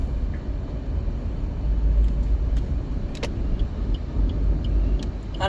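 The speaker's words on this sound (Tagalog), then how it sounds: "Traffic." Steady road traffic from cars, motorcycles and jeeps on a busy jammed street, a continuous low engine rumble with a few faint high clicks and squeaks, no talking.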